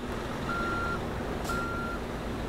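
A truck reverses in Euro Truck Simulator 2, its reversing alarm sounding two steady, evenly spaced beeps over a constant engine drone.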